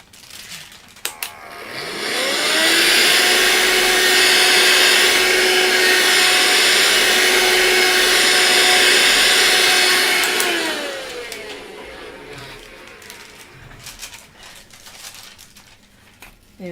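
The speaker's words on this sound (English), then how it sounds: "I've got to vacuum this." A vacuum cleaner runs near a pastel painting setup, whining up to speed, holding a loud steady roar for about eight seconds, then spinning down and fading.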